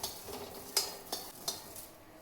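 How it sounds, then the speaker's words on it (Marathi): Garlic roasts in a pan with a faint, soft sizzle, punctuated by a few light clinks and scrapes of a spatula or spoon against metal. "लसण भाजून घ्यायचं आहे"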